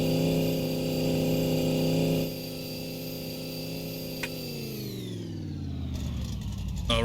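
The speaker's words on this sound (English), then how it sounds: "slam it from fourth gear down to first gear" A car engine on a dyno holds a loud, steady high-rev drone with strong harmonics, then its pitch steps down sharply as it is slammed from fourth gear into first, the tone sliding lower and rougher to the end.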